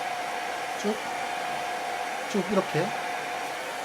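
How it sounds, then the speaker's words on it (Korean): A hair dryer set on low heat blows a steady, soft whoosh throughout while hair is styled, with someone speaking briefly over it. "드라이기 약퉁 있죠? 약퉁으로"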